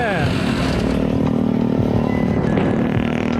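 Motorbike engine close by, steady buzzing and revving as it rides past and pulls up on a Sumatran street, with voices talking over it.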